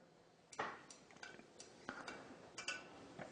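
A spoon or stirrer stirs water in a small test container, giving light, irregular clinks and taps against the sides, quiet and close.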